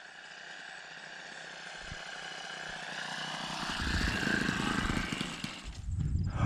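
A 28-year-old scale RC Piper J-3 Cub model airplane on landing approach, its small engine droning steadily then rising and sputtering as the throttle cuts out, with no talk.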